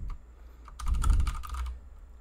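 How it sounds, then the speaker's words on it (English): Quick burst of typing on a computer keyboard while editing a text file, with close, crisp key clicks in a short rapid cluster and no talking. "So I can type in here"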